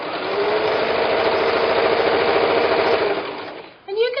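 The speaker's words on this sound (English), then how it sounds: "come back and start sewing" A sewing machine stitches seams on a Bear Tracks quilt block, a loud, even whirring hum that runs for several seconds and then cuts off, followed briefly by a voice.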